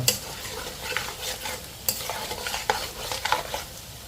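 Wild boar meat fries with curry leaves in a pan, a lively close sizzle broken by repeated sharp scraping strokes of a spoon stirring through the pieces, no talking.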